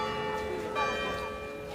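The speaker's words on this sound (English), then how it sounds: "You could hear the bells from the Sacré-Cœur throughout Paris this morning" Church bells of the Sacré-Cœur in Paris ring with sustained, overlapping metallic tones, a fairly faint and distant wash of pealing with no voices.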